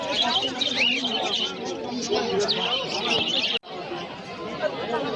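Cockatiels, including lutino birds, chatter and chirp continuously at the Rajarhat pet bird market, a busy mix of calls under a person talking close by.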